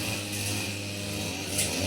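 A small two-stroke brush cutter engine drones steadily and close by while cutting grass in a durian orchard, with a buzzy, high-revving tone that holds fairly constant throughout.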